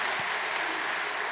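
Steady wash of audience applause for a church choir during a service, dense and even for the full short stretch with no voices over it.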